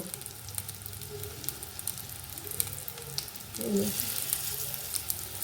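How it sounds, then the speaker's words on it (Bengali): Bottle gourd kofta shallow-fries in a little oil, giving a faint continuous crackling sizzle with scattered pops that swells slightly near the end, no voices. "টিকিয়াতে যেমন কম তেলে হয়ে যায় ঠিক সেরকম করে কম তেলে ভেজে তুলে নেবো"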